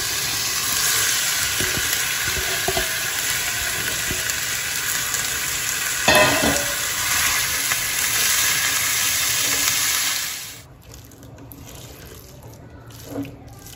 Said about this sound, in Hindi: और आलू को इस तरह से मैश करके डालेंगे।